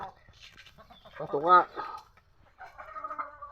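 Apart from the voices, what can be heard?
hens and rooster clucking on a farm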